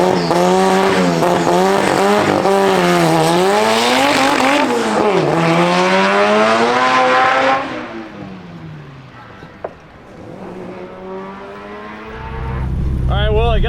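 A Honda Civic with a fully built LS VTEC engine makes a drag strip pass, its engine screaming loudly up through rising gear-by-gear pitch sweeps, then dropping away as it lifts off, with a faint voice near the end.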